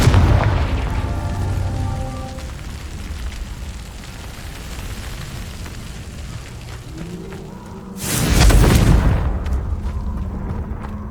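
Fire blast spells explode in a Hogwarts Legacy battle, a deep booming burst near the start and another heavy roaring blast around the eighth second over a steady rumble of game noise.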